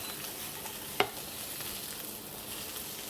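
Onions frying in a pan with beef for Thai massaman curry, a steady low sizzle close by with a single sharp clink early on, no voices.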